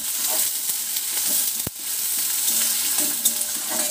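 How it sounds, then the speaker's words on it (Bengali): Chopped onion fries in hot oil in a pan for a methi potato curry, a continuous close sizzle with occasional stirring scrapes and one sharp knock midway. "পেঁয়াজ কুচি দেওয়ার পর হালকা করে ভেজে নিচ্ছি।"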